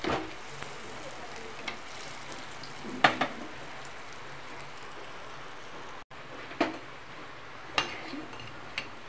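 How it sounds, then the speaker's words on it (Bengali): Banana flower kofta balls frying in hot oil: a constant soft crackling sizzle, broken by a few sharp taps of a spatula against the pan. "এইভাবে করে ভেজে নেব।"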